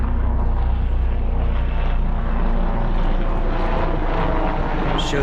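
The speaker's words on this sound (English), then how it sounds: "There's a helicopter doing tours" A tour helicopter flies over the Hudson River beside the Palisades, its engine a steady, fairly distant drone that holds at an even level for the whole stretch with no talking.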